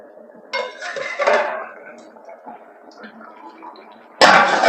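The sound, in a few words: lid taken off a pot of boiled potatoes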